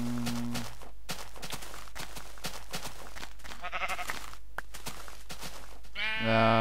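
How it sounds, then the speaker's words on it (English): Sheep in Minecraft with the Mo' Creatures mod bleat a few times, with one short bleat at the start and another near the end, over a busy game soundscape of clicks and footsteps. "I'll leave the sheep alone for now"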